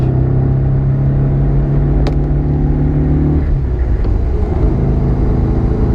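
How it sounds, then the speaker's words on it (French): A Porsche 356 SC coupe accelerates with a loud, close engine drone that holds a steady pitch, then shifts and settles into a rougher rumble. "c'est une voiture de sport qui accélère, qui marche, qui fait un bruit incroyable"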